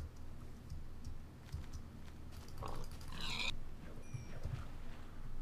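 Minecraft pigs give short grunting oinks close by, scattered over faint game ambience, with soft clicking from a keyboard in the background.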